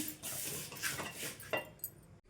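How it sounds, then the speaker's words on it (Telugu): Crisp fried poha mixture is tipped into a bowl in a home kitchen, with soft scattered rustling and several light clinks of utensil against dish, quiet and close. "ఇదైతే ఒక బౌల్లో వేసుకుందాం."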